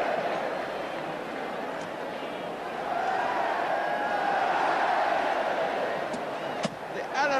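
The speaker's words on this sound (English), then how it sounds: "The Ellen Road crowd are lapping it up" Large football crowd at a Leeds United home match at Elland Road, a broad roaring murmur that swells into louder cheering midway, with a commentator's voice faintly over it.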